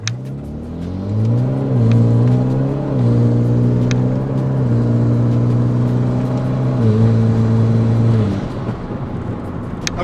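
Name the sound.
Hyundai Veloster Turbo accelerating 0-60 pull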